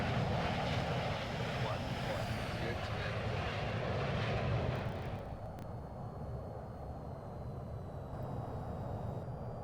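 The jet engine of an EF-24G in the VTOL VR game roars as a broad steady rumble, loud at first, then dropping to a lower, quieter drone about halfway through as the aircraft sets up for a carrier landing.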